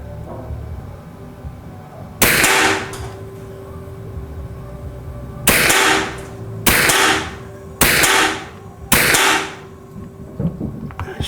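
Five sharp, loud shots from an Edgun .357 air rifle, one then a quick string of four spaced about a second apart, each with a short ringing tail over quiet background.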